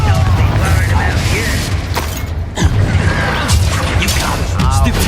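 Confringo fire spell blast in Hogwarts Legacy: loud booming impacts and crashing debris amid a chaotic game battle, with whooshes and creaks over a dense rumbling mix, with voices mixed in.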